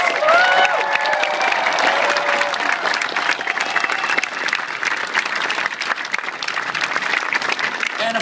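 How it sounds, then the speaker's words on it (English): Audience applause for the governor at a marriage equality bill signing in Minnesota, sustained dense clapping from a large crowd throughout, with faint voices mixed in. "let's give the governor another round of applause."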